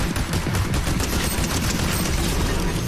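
A combined rocket-and-gun weapon firing in Fortnite, a dense continuous barrage of loud rapid shots and blasts that fills the whole stretch without a break.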